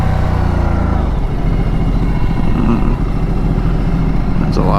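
A Ducati Multistrada 1260 S Touring motorcycle engine runs loud and steady with a deep exhaust note, as another bike's exhaust rumbles past close by.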